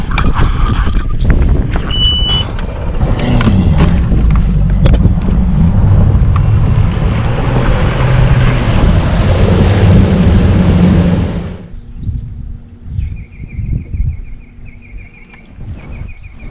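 Strong wind blows across a lake, roaring over the microphone in a loud continuous rush that drops away abruptly, leaving quieter ambient sound with faint bird calls.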